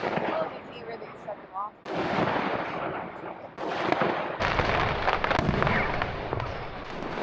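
Fireworks bursting over the Niagara River during an evening cruise, a dense run of cracking and booming explosions in overlapping bursts, with crowd noise beneath.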